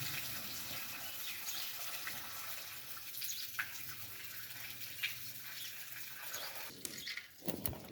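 Water poured off soaked rice while making kheer, a steady close splashing and trickling stream with small drips, running alone without talk.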